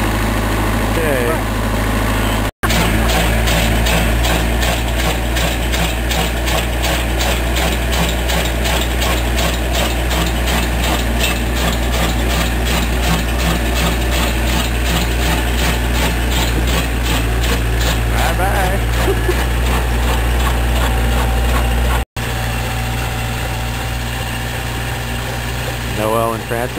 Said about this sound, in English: Noel and Francis are riding in the bobcat with Lolo.